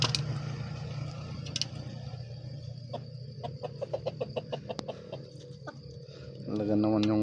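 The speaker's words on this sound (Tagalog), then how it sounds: "Talaga naman yung tandang." Rooster on a small farm clucking in short repeated bursts at moderate distance, with other farmyard noise and a brief louder burst near the end.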